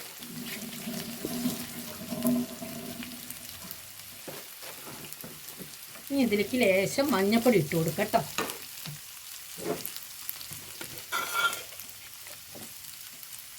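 Onions, green chili and ginger sauté in a hot pan for a Kerala-style fried bitter gourd dish, a steady sizzle and stirring scrape running throughout, with a voice talking over it and a brief louder burst of frying midway.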